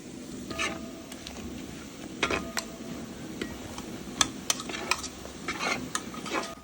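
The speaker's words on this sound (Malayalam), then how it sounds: "ഇനിയിപ്പം നമ്മുടെ ചതച്ച് വെച്ചേക്കുന്ന ഇറച്ചി നമ്മൾ ഇതിനകത്തോട്ട് ഇട്ട് ഇളക്കുകയാണ്" Crushed meat being stirred into sizzling masala in a pan, with steady frying hiss and irregular scraping ticks of the spoon, close and moderately loud.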